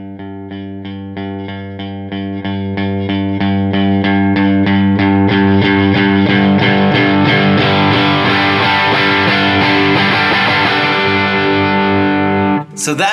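An electric guitar plays notes through a distorted amp while a volume pedal swells them up from quiet to full, building into a loud, sustained, saturated wash before stopping abruptly.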